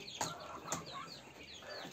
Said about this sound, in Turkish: 3 tane de tavuk var.